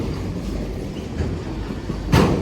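A freight train hauling empty autorack cars rolls steadily past, a continuous low rumble with faint wheel clatter and a brief louder burst near the end.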